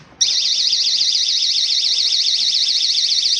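A GE personal security window and door alarm goes off after a brief quiet moment: a piercing, shrill warbling siren that stays loud, steady and close for several seconds with no voices.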